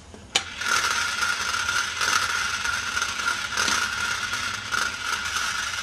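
A Honda CL175 race bike wheel spins on a stand for a runout check, giving a steady, continuous mechanical whir with faint ticking and rattling that begins after a sharp click and repeats in slow pulses.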